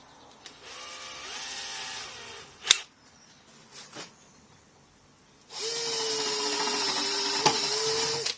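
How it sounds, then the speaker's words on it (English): Power drill tapping a 4mm screw hole while working on a bike, two whirring bursts with pitch changes separated by a quieter gap with knocks and clicks. "Just tap a hole for the screw to go in."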